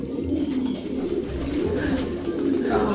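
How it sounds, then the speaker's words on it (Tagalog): Low, repeated cooing of a pigeon close by, soft and throaty over a muffled background. "Napakalaking ibon ni Dagol."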